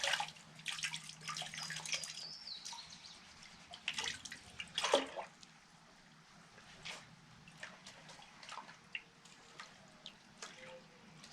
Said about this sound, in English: this is the concentrates from our sluicing. And we're just going to pan this out a little bit.